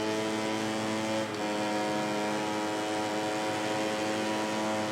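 Motorcycle engine in the racing game MotoGP 19, a steady loud high-revving drone held throughout with dense harmonics, never climbing, as if the bike is struggling to rev out in a tall gear.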